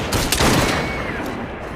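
Volley of gunfire in Assassin's Creed Syndicate, a burst of several overlapping shots crackling close and loud, then ringing off into a fading tail.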